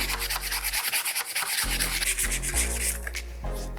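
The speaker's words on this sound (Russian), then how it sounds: "Снимаем всю краску." Paint is sanded off a small jar with close, steady abrasive rubbing in uneven strokes, a dry scratchy texture heard alone without talk.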